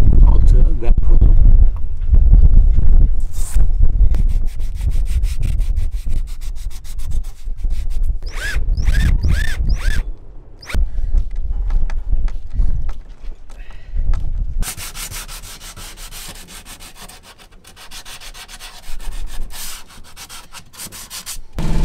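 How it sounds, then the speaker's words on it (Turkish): A soft velcro-backed detail sander works a sailboat part in a marina, its buzzing rub starting and stopping in short bursts, then running steadily; someone talks in between. "Bu tarz zımparalarda şöyle detay zımparası kullanıyorum."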